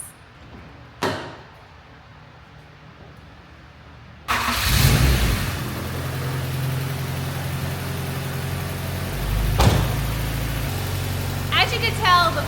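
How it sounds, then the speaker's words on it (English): A Honda Civic hatchback with an overheating problem and a head gasket test kit fitted starts up with a burst of noise, then idles steadily at a low, even rumble close by. "it's time to start the car and let it idle for 10 minutes"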